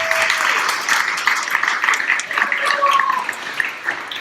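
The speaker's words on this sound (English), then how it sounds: "Give her a big round of applause." Audience applause at a live sales-themed business event, a steady patter of clapping hands that lasts several seconds, moderately loud and close, with faint voices beneath it.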